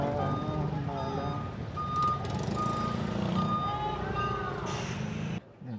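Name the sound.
large truck reversing with beeps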